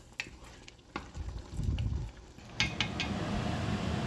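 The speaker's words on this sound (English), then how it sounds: "I've put it down to low all the way, and it's still boiling" Low bubbling and a steady rumbling simmer from a pot of black beans and rice on a stove turned to low, with a few light clinks over it; no voices.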